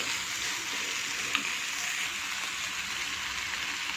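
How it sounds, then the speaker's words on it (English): Capsicum and other vegetables sautéing on a tawa for a paneer bun, a steady close frying sizzle with one faint clink. "saute it well and let it cook"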